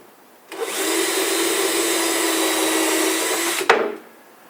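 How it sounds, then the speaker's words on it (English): A power drill bores a hole for drawer slide hardware, one steady, close whine running about three seconds with a sharp start and stop. "Now I will drill a couple of holes."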